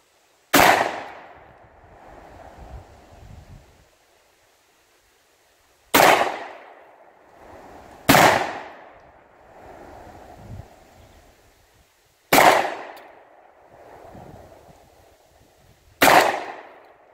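A gun fires five sharp, loud shots outdoors, spaced a few seconds apart, each crack followed by a brief rumbling echo that fades before the next round.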